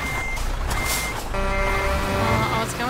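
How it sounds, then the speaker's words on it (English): A truck's reversing alarm in Euro Truck Simulator 2 beeps in repeated steady tones over a loud rumbling engine and traffic noise, with a brief whoosh partway through. "Now the truck dude's not like helping, instead he's just sitting there like beeping away at me."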